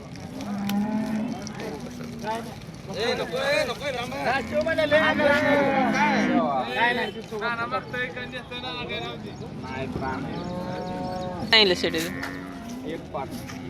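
Dairy cows moo repeatedly amid a busy crowd at the Modnimb cattle market, their low drawn-out calls mixing with people talking and general livestock-market bustle.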